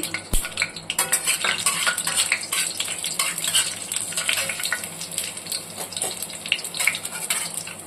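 Cloves and cinnamon sticks fry in hot oil in a pan for a chicken curry with almonds and cashews, giving a steady close sizzle with scattered spoon scrapes and light metallic clinks throughout.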